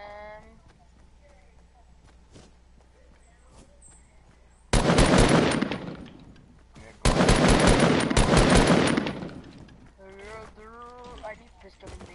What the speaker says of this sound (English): Someone shooting from above.